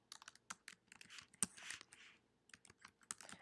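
Typing on a computer keyboard, quick irregular clusters of light key clicks with brief pauses, close and clear in a quiet room.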